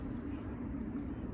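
Faint high chirps from birds outdoors over a steady low rumble of car traffic, a few short calls repeating.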